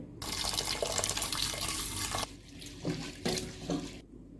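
Water runs steadily from a tap, then turns to intermittent splashing and sloshing as lentils are rinsed in a pressure cooker, close by with no talking.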